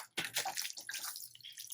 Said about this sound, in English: So I'll give that guy some water